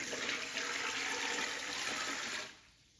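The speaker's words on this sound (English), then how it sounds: "And then I'm gonna pour this right over the turkey." Salty brine poured over a turkey for smoking, a steady close rush of liquid splashing and filling that stops abruptly near the end.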